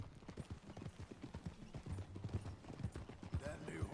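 Horse hooves galloping in the Red Dead Redemption 2 video game, a steady rapid clip-clop rhythm at close range, fairly quiet, with faint game sounds around it.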